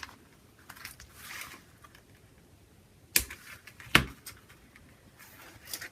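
Jewellery pliers trim craft wire, giving two sharp snips about a second apart against a quiet room with faint handling rustles.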